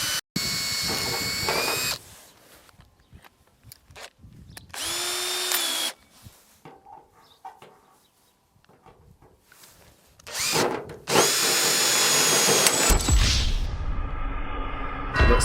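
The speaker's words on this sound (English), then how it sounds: "First we drilled a pilot hole and then got out the large diameter drill bit." A power drill fitted with a large diameter bit bores an outlet hole through a farmhouse gutter in loud bursts of high whining and grinding. The bursts are broken by quieter gaps, and a long sustained run of drilling closes the stretch.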